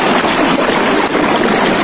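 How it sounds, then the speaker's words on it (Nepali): Water pours into a container to fill a poultry drinker on a cold, snowy day, a loud, close, steady rushing gush with no talk. "यहाँ चाहिँ टक्क पानी भर्ने रेडी भइसक्यो"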